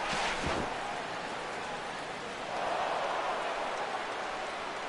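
Rain pours down steadily over a ballpark during a Red Sox versus Yankees baseball video game, a dense, even hiss of falling water with a brief sharper burst near the start, no voices heard.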